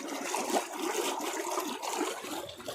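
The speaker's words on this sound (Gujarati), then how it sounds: "અત્યારે જુઓ પાણી ચાલુ કરી દીધું આપણે" Irrigation water rushes and gurgles as it flows into a farm field toward a castor crop, a continuous close, moderately loud wash with no voices.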